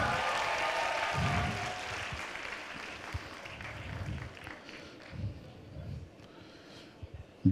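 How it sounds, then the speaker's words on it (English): Applause from an audience at a youth forum event fades gradually from a moderate, dense patter to a sparse scattering of claps, with a sharp bump at the very end. "Please give them a good round of applause."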